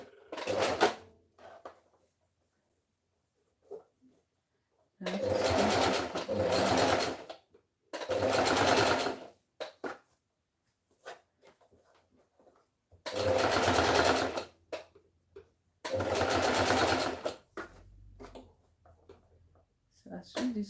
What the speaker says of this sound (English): I was stitching all the way around.